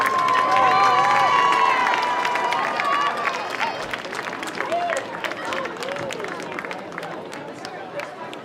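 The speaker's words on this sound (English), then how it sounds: "let's give a round of applause for our senior night parents from our band and color" A stadium crowd at a high school football game claps and cheers for senior night parents of the band and color guard, a broad steady applause that slowly fades, with voices calling out over it.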